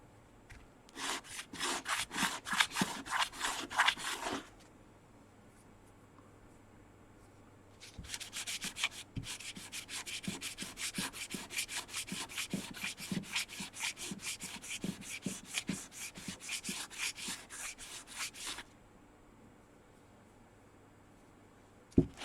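A soft soapstone seal is rubbed flat against an abrasive surface in steady back-and-forth strokes, a close, rasping sanding sound in two long bursts separated by a short pause.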